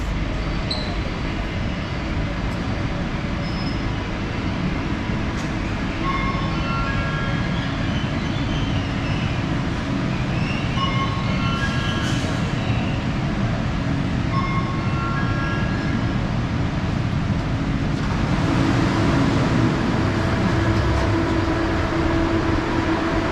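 An express train at a platform on Malaysia's KLIA to Putrajaya rail line gives a loud, continuous rumble and mechanical hum with faint whines, swelling slightly toward the end.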